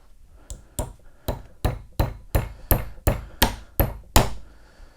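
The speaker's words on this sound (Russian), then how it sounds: "сюда забиваю шпонку" Key being hammered into the cutterhead shaft of a Belmash J200/180 jointer during a helical head swap, ten sharp metallic strikes in a steady rhythm, close and loud with no talking.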